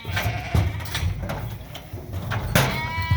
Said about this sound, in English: There's a ewe.